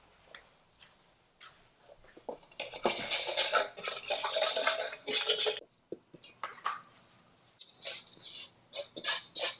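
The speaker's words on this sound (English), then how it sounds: "then I'm going to go ahead and start stirring this around and all" Fried okra is stirred in a pan, and a utensil scrapes and clatters against the metal in busy bursts with short pauses between them, heard up close.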